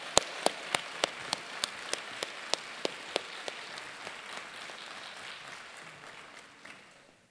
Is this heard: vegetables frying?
no